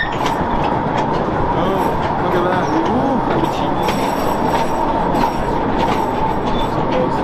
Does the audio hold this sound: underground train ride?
yes